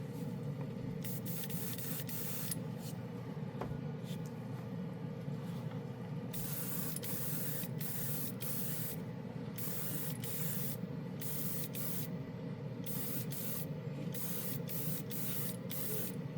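A Swallowtail airbrush with a 0.5 fan cap sprays Testors Extreme lacquer paint in repeated bursts of airy hiss, separated by short pauses over a constant compressor hum.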